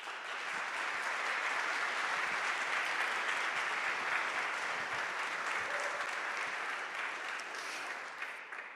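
A crowd at a live Q&A event at Elon University, North Carolina, applauds to welcome the sponsors. The clapping is steady, fairly distant and sustained for about nine seconds with no talk over it.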